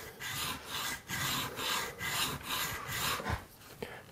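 A marking knife's bevel is rubbed back and forth on a sharpening plate, giving steady rasping strokes in an even rhythm, close and fairly loud, with no talk.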